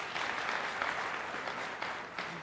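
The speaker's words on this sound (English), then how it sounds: "And let's give them a big round of applause" Applause from a film and TV festival awards audience, moderately distant, with steady clapping that swells and dips over a couple of seconds and no clear talking.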